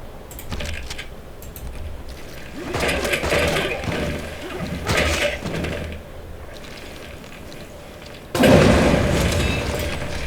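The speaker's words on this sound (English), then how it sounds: "this artillery hasn't done as much, so let's just totally soften them up" Artillery bombardment in Civilization VI, a few booming impacts and rumbling blasts in bursts, the loudest and heaviest near the end, with clicking game sounds between.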